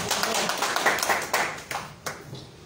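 Audience clapping at an environmental group's discussion meeting and district committee event in Cox's Bazar. It comes as a burst of scattered hand claps that thins out into a few separate claps, heard alone without talk.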